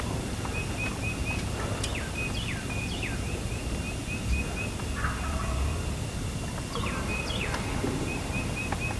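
Wild turkeys, hens and a jake, call repeatedly from a Kansas field, with sharp gobble-like bursts scattered over the clip against steady outdoor wind and rustling, birds at moderate distance.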